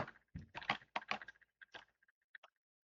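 Computer keyboard keys tapped in quick irregular bursts, close and fairly quiet, the clicks thinning into a few scattered presses before stopping, with no voice over them.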